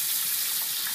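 Meat frying in a pan for beef nasi goreng, giving a steady, close hiss of sizzling with no speech over it.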